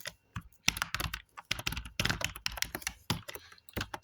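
Rapid, uneven keystrokes on a computer keyboard while entering HTML code, close and fairly loud, in short bursts with brief pauses between.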